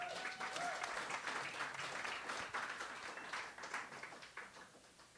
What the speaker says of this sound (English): let's give a huge round of applause for Chris Ward.